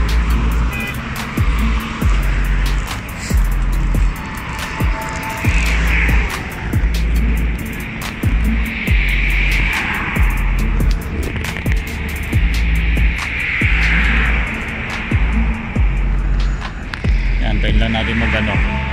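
Road traffic near The Zone in Riyadh, a steady loud rumble and whoosh of cars passing close by with repeated swells, continuous throughout under some crowd or street noise.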